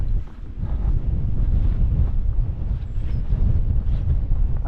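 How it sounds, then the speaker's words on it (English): Strong wind buffets the microphone high up on a hilltop, a steady roaring rumble that stays loud and continuous throughout with no other sounds. "so quite windy up here, but obviously we are quite high up"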